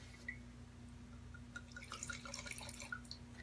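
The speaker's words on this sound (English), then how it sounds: "I always have to pour myself some first" Red wine trickles into a glass in a quiet series of small drips and splashes, faint and close, with a low steady hum underneath.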